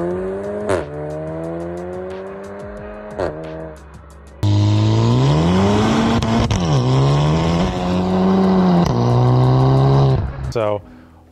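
Car engine revving with a DSG dual-clutch transmission, harmonic engine tone climbing and dropping across several gear shifts, with sharp pop-like breaks between shifts; loud and close throughout.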